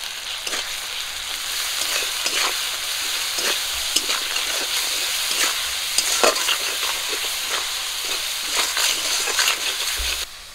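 Ginger, cumin and garlic paste frying with chilli powder, turmeric and salt in a pan for a rohu fish curry, giving a steady close sizzle broken by repeated scraping stirs, with no voices.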